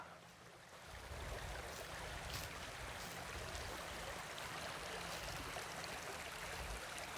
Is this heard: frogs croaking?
no